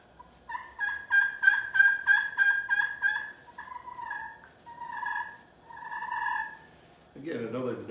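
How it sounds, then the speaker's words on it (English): A newer Quaker Boy slate turkey call is worked by hand, producing a rhythmic string of about eight high-pitched, raspy yelps, then softer drawn-out purring notes, with a brief scrape at the end. "This is a newer version of a Quaker Boy call."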